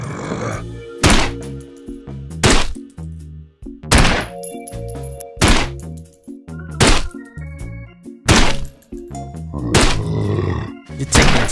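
Peashooter gun firing repeatedly in a Plants vs Zombies video game: a run of sharp, loud thwacking shots about every one to two seconds over layered game music and effects, with no speech.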